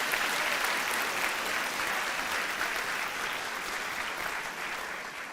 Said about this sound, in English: Can we give them applause and pressure them?